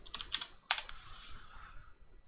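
Fingers type on a computer keyboard in a quiet room, a quick burst of soft clicking keys followed by one sharper keystroke and a fading whir.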